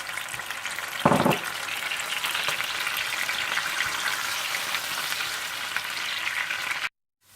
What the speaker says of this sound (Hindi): और फिर इसी तेल और मक्खन में आप ऑनियन पेस्ट डालकर अच्छी तरह से भून लें।